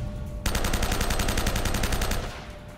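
Rapid automatic gunfire in the video game Uncharted bursts in suddenly and rattles on loud and close for about two seconds before cutting off, with quieter game ambience before and after.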